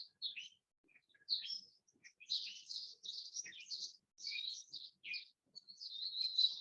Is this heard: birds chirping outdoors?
yes